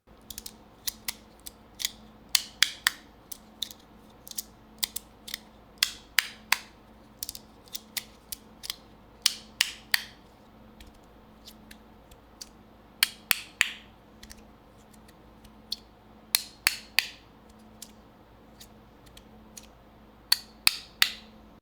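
Repeated crisp metallic clicks and short sliding snaps, played alone in irregular bursts with brief quiet gaps, close and fairly soft.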